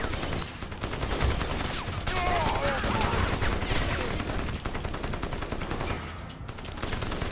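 Rapid gunfire from the shooter game Crysis, played in VR with an Oculus Rift and a Wiimote, rattling in dense continuous bursts throughout, with a voice talking at times over the shots.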